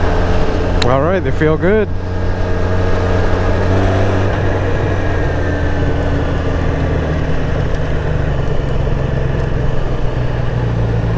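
A Yamaha R6 sport motorcycle with newly fitted shorty adjustable clutch and brake levers runs steadily throughout, a constant engine drone with a few revving pitch sweeps near the start, while someone speaks briefly over it.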